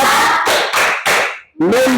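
A class of students claps the 'tepuk fokus' rhythm, four brisk hand claps in quick succession close up, followed by a voice.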